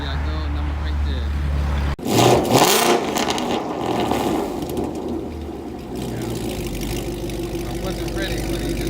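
A 2015-2017 Mustang GT with cat deletes and a Corsa Xtreme exhaust starts up with a sharp roar, then rumbles and revs low as it pulls out, with someone talking over the engine.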